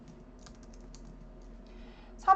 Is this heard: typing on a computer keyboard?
yes